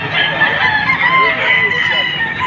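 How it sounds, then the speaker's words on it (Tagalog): Roosters crow and chickens cluck in a busy, noisy crowd of fowl at a chicken market in Padre Garcia, Batangas, with people talking underneath throughout. "ito po yung manok na dala ni sir"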